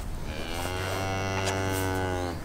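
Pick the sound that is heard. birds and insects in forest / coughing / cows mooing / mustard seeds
cows mooing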